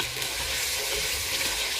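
Masala spice paste fries in oil in a pot with a continuous, even sizzle and bubbling hiss, close by and unbroken, with no voices.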